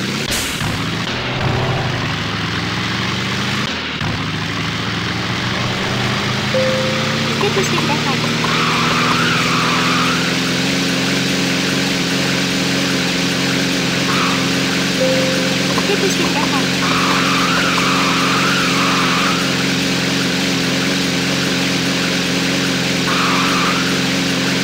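A race car in the arcade driving game Thrill Drive 2 pulls away with a steady loud engine drone and rising pitch, tyres squealing in short bursts over the constant roar, while a voice talks over it near the start.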